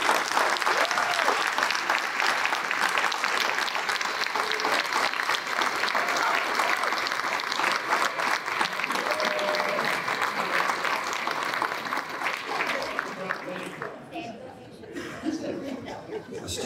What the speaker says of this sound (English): Please rise and let's give them a round of applause.